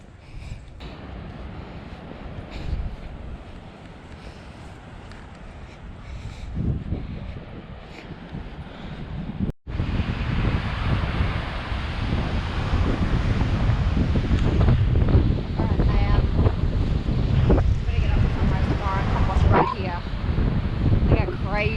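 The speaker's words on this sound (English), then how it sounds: "Crazy the waves are right now. It's really choppy with the weather." Choppy ocean waves wash onto a windy beach at high tide, a steady roar with heavy wind buffeting the microphone, a dog barking and people talking over it.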